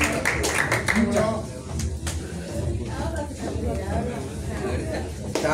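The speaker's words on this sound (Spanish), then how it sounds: "Un gran aplauso a ustedes" Audience applause at a live theatre or reading event, dense clapping most prominent early and then mixing with crowd chatter and voices.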